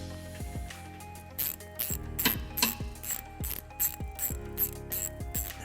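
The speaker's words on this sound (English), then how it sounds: "to remove those, you can use a small Phillips screwdriver, or you can use a Phillips bit." A ratchet fitted with a Phillips bit backs screws out of a 2010 Kia Soul wheel well, giving rapid clicking pawl bursts in repeated strokes, close and fairly quiet with no talking.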